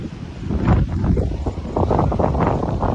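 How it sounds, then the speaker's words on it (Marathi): Strong wind buffets the microphone on the ridge of Asherigad hill fort, a loud, continuous low rumble with gusty surges and no voices. "आणि वारा पण खूपच आहे बघू शकता."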